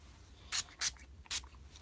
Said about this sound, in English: Quick little spray.